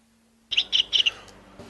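A small bird gives three quick bright chirps in a row, then a fainter trailing call, close and clear over a quiet background.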